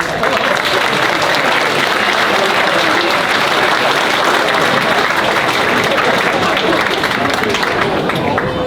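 Steady, loud applause from an indoor audience greeting the Flagler County Tax Collector at a Palm Coast event, with dense clapping that holds evenly throughout and faint crowd voices underneath.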